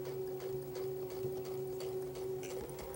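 A sewing machine stitches a Dahlia quilt onto an anchor cloth, running as a steady close hum with quick, even needle ticks throughout and no talking.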